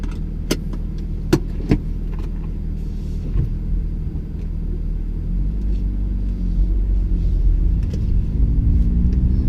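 A 2017 BMW M2 with a manual gearbox being driven, its low engine rumble and road noise steady and close throughout, with a few faint clicks early on.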